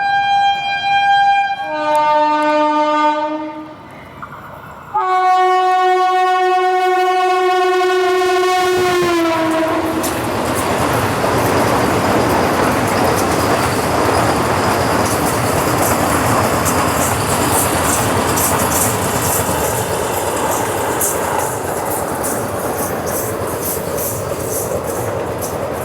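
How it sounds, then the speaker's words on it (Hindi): Amritsar Nanded Sachkhand Express departing Rotegaon station: a long loud train horn sounds in two blasts, then the train pulls away with a rising rumble and rhythmic clickety-clack of wheels over rail joints, steady and close. "तो फाइनली हमारी ट्रेन 8:55 पर निकल रही है रोटेगांव से।"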